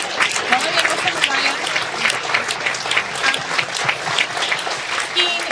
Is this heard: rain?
no